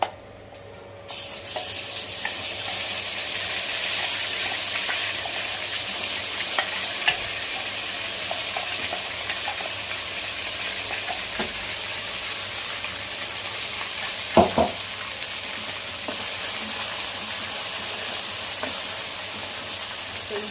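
Steady, loud sizzling of ground spices frying in hot oil for a masala fish curry fills the whole stretch, with occasional clinks of a utensil stirring and no talking.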